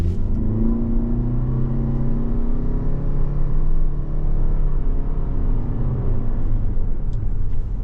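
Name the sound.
2023 Toyota Venza accelerating back up to speed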